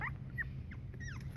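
A young puppy in a litter of males whimpers softly, several thin rising whines over a low steady background hum.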